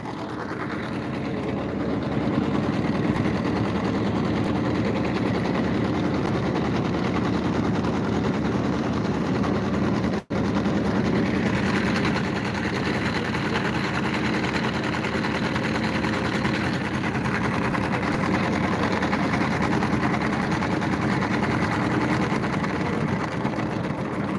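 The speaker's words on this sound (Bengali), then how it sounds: "এখন আমরা ব্রহ্মপুত্র নদ পার হচ্ছি এই ছোট নৌকাটির মাধ্যমে" A small motorboat engine drones steadily and loudly throughout while crossing the Brahmaputra River at Mymensingh in winter, a continuous rumbling hum with no voices.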